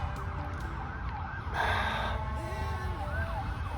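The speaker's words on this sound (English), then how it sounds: "Looks like there was an ambulance going by." A faint ambulance siren wails and sweeps in pitch in the distance, over a low hum of background noise.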